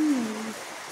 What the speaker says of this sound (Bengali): কি বৃষ্টি হচ্ছে আমাদের এদিকে দেখতে পাচ্ছ